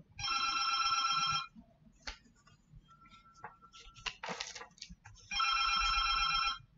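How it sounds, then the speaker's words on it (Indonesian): A telephone rings in two bright electronic bursts, one at the start and one at the end, loud and close, with scattered faint clicks and rustles in the quiet gap between. "Ada telepon yang harusnya diangkat oleh staf saya."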